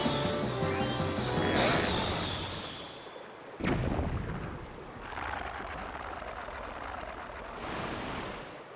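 Bomb blasts during a boss fight in Zelda: Twilight Princess, several heavy explosions with long rumbling, crashing tails, one sharp loud burst standing out midway among surging, wave-like roars.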